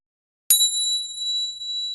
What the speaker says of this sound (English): A bell rang on one of his machines